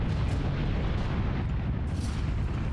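Heavy mech weapons fire in Armored Core: Verdict Day, a dense continuous barrage of booming shots rumbling together loudly with no clear gaps.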